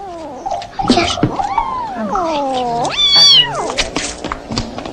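A cat up in a tree meows loudly and insistently at close range, a series of long, wavering, rising and falling cries running almost without pause.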